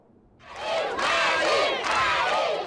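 Hundreds of people in the streets of a northern Mali town cheer loudly for passing Niger soldiers, a dense roaring crowd with shouting and ululating voices that swells and holds throughout.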